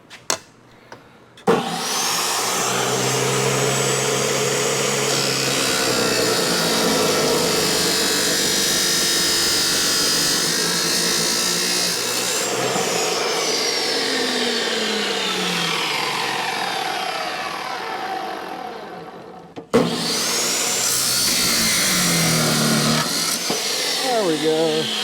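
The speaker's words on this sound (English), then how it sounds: "on the old chop saw." A chop saw cuts a beveled washer during a 1977 Ford F600 cab light upgrade. Its motor whines up, then grinds loudly and close for about eighteen seconds before winding down, and a brief second burst follows.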